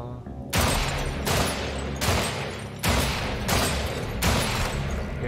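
Pistol gunfire in the video game Weird West, about six loud, close shots fired at a steady pace with booming decays over a low game soundtrack.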